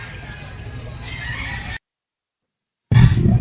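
Roosters and chickens at an outdoor pet market in the Grotto area crow and cluck amid crowd noise, the sound cutting out briefly before returning loudly.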